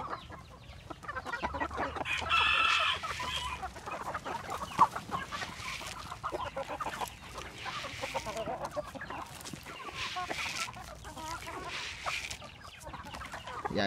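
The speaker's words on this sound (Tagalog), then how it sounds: "Ito na yung mga manok natin." Native chickens cluck and murmur in a busy, overlapping chorus, close and continuous for the whole stretch, with occasional sharper calls standing out from the flock.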